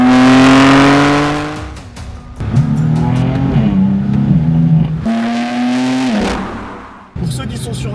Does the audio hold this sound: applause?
no